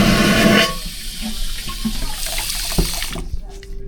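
A cruise ship cabin toilet flushes in a loud rushing burst that drops quickly into a steady, lower trickle of refilling water close by, ending in quiet.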